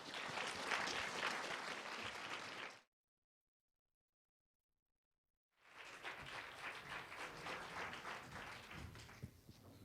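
Audience clapping at a social justice panel symposium in Wyoming, a dense burst of applause that cuts to silence for about three seconds, then resumes just as strongly and fades out.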